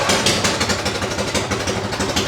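Freshly started John Deere engine running with its muffler fallen off, a loud, close, rapid chugging pulse that stays even and rhythmic throughout.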